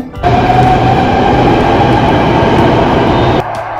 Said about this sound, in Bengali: অক্ষরধাম টেম্পল থেকে আমি Dwarka sector 25 গামী blue line metro ধরলাম।